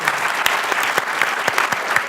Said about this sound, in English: let's give a round of applause to everybody on the panel who's been so terrific.